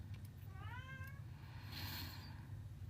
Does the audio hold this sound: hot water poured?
no